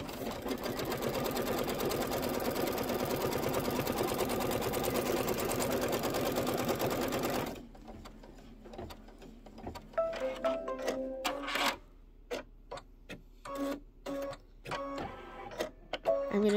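A computerized embroidery machine stitches a tack-down line onto quilt background fabric for a Kimberbell Spring Showers bee block, with a steady loud whir for about seven seconds, then stops and is followed by scattered clicks and handling noises.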